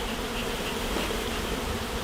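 Dense, steady buzzing of many honey bees from an opened hive during a varroa alcohol wash sampling, a continuous close hum with no talk.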